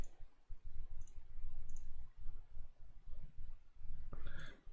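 A computer mouse on a Windows 10 PC gives a few faint, isolated clicks spaced over several seconds against a low, steady room hum.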